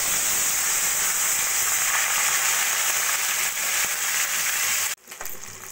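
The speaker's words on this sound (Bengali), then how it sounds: "এবার আমি মাছগুলো ভেজে নেব।" Parshe fish fries in hot oil in a wok with a loud, dense, rain-like crackle and hiss close up, which drops sharply near the end and then resumes more quietly.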